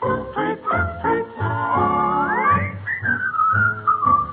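A clear, high whistled melody rises and glides over a band-backed song in a 1940s radio comedy broadcast, carrying steadily through the second half.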